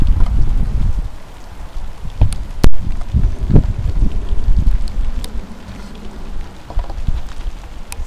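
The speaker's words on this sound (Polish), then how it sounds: "Leje jak z cebra." Heavy rain pouring onto the roof of a ship, a loud, steady wash of rumbling drops and wind buffeting close to the microphone, with a few sharp knocks breaking through.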